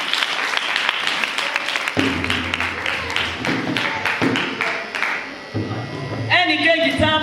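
Children's Day audience in Lagos applauds a child dressed in Yoruba attire with beads, clapping mixed with voices, and a tonal musical sound rising at the close.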